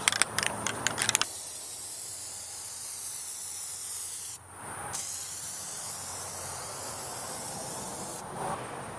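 Aerosol can of Plasti Dip spraying onto seats, a close, steady hiss in two long bursts separated by a brief pause, with faint clicks at the start.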